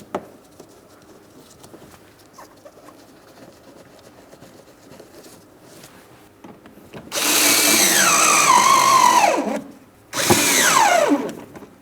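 Power drill driving screws into the front inner fender liner of a 2008-2016 Chrysler Town & Country, two loud whirring bursts with pitch dropping as each screw seats, after quiet handling noises.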